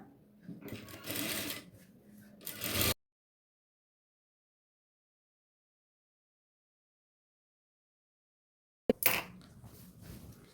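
Short, close bursts from a sewing machine stitching the top side of a yoke on a nighty cloth: a run of about three seconds, a long silence, then another brief burst.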